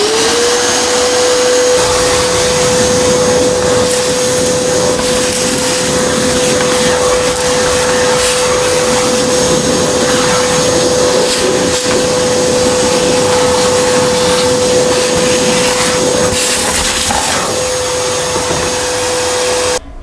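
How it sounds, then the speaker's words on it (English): Dustless HEPA vacuum running steadily on turbo boost, a loud, constant motor whine with a strong steady tone and rushing airflow throughout, close to the microphone. "With the dustless vac, it's basically in turbo boost at all times."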